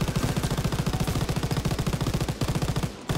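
Rapid automatic machine gun fire in the video game Call of Duty WW2, loud sustained bursts of evenly spaced shots with a brief pause near the end before firing resumes.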